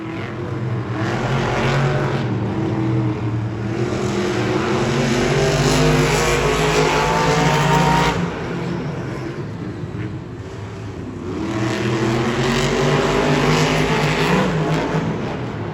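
Monster trucks racing head-to-head at a Monster Jam stadium event in Pittsburgh, loud roaring engines revving continuously with surging swells and a brief dip midway, heard over crowd ambience.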